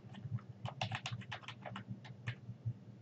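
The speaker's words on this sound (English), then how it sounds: "To indent the first line, press the Tab button one time. Then begin to type." Steady clatter of typing on a computer keyboard in a word processor, a quick irregular run of close key clicks with a faint low hum underneath and no voices.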